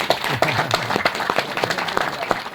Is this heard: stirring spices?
no